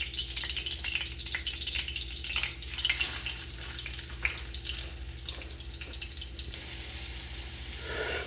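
Chicken pieces sizzle skin side down in a pan over medium-high heat, a steady crackling fry with a few sharper pops, close and continuous without talk, fading slightly toward the end.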